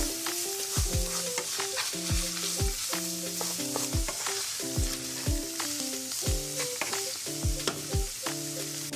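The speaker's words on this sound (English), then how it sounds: "You want to mix it until it's well combined. And we're going to let it cook for 1 to 2 minutes." Ground beef with garlic and ground mustard sizzles in a pan while being stirred, a continuous fry under repeated scraping, clattering strokes of the utensil, close and fairly loud, no talk.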